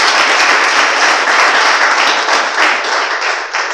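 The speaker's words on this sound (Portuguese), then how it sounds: "Uma salva de palmas para o nosso" A church congregation applauds loudly and continuously, dense overlapping hand claps filling the room at a steady level before easing slightly at the end.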